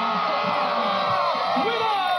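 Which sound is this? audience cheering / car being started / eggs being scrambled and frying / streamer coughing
audience cheering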